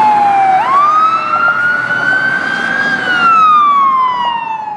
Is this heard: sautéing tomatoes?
no